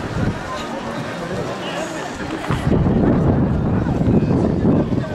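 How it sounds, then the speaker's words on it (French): Strong wind buffets the microphone at a lake where an RC steam paddle-wheel pusher boat is sailing, a steady roar that grows louder halfway through, with faint background voices. "Il y a vraiment beaucoup de vent, ouais."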